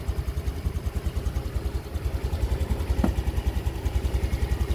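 A motorcycle with a battery that keeps running flat idles steadily up close, its low, even putter pulsing in a fast regular rhythm for the whole stretch, with a brief faint click partway through and no talking.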